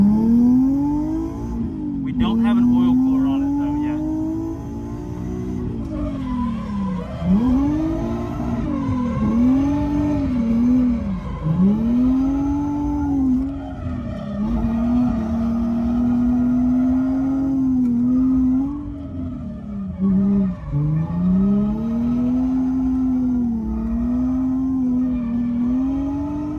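A budget drift car runs hot laps without an oil cooler, its engine note rising and falling steadily as it revs, shifts and slides through corners, loud and continuous with brief skid sounds.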